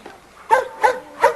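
A dog barks three times in a kennel yard, sharp and fairly close, with short pauses between each bark.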